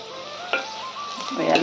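Garlic cloves dropped into hot oil with chopped onion, for a wild leafy vegetable dish, crackle in a brief close sizzle with a stir scrape partway and a swelling burst of frying near the end.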